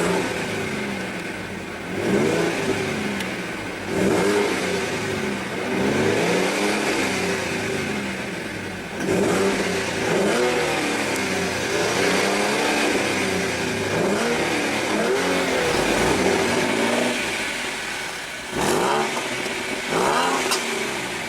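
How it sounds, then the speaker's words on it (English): A 2015 Ford Mustang's 3.7 L V6 revs repeatedly, each blip rising and falling in pitch over a steady idle, loud and close throughout. "let's go ahead and rev it up and see how she sounds"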